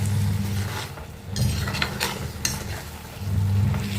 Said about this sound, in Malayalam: മല്ലിയിലയും കൂടെ ചേർത്തതിന് ശേഷം നല്ലതുപോലെ ഇളക്കി യോജിപ്പിക്കാം.